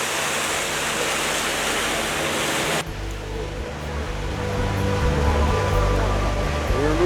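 A river cruise boat moves along the water, giving a steady broadband rush of water and engine hum that shifts abruptly to a lower, rumbling texture midway and continues evenly.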